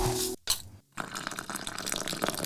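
Tea poured from a kettle into a cup, a brief splashing stream broken by short pauses, then a steady trickle of liquid close by.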